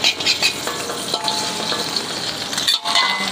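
Fern shoots are stir-fried with belacan in a little oil, sizzling steadily as a utensil scrapes and tosses them in the pan, close up with no voices.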